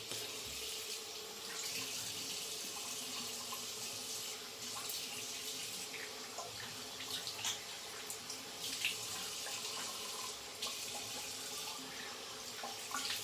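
Steady running tap water as a Weck Sextoblade razor is rinsed at a sink, a continuous close wash of splashing flow with small irregular spatters throughout.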